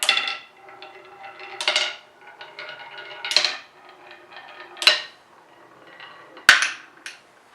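Glass marbles drop onto a handmade wooden marble track with hand-shaped wood pieces, making sharp clacking bounces in separate bursts every second or two, each followed by a short rattle, close by in a quiet room.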